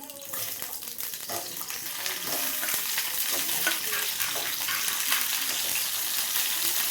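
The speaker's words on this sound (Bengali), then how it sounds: "বেগুনটা ভাজা হোক" Eggplant frying in a pan, a crackling sizzle that swells after the first couple of seconds into a loud, dense, continuous hiss with faint clatter.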